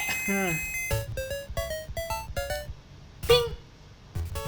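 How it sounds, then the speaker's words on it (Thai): Bright chiming checkpoint bells and bouncy game jingles from Super Mario Land 2 play in quick succession, with someone talking excitedly over them. "อ้ากระดิ่ง"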